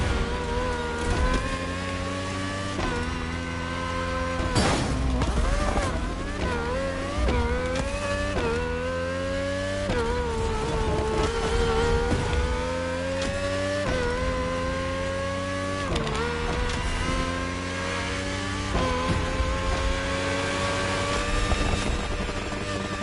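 Car engine straining and revving hard in the racing game The Crew Motorfest, a loud, continuous whine that rises and drops with each gear change across the whole stretch.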